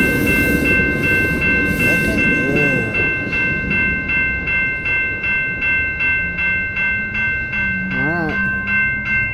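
A train passes close by a rider on an eBike during a rain ride, with loud, rhythmic clickety-clack from its wheels and a brief whistle near the end. Someone speaks briefly over it.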